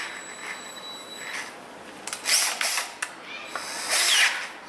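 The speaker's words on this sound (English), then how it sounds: "Well, it just fits in a 3/8 drill" A 3/8 power drill whirs in short bursts, starting and stopping several times up close, with a faint high whine at the start.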